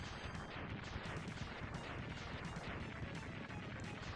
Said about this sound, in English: Oh no, the rocket exploded.